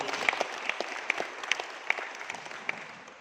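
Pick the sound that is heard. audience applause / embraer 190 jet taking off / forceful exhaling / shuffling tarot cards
audience applause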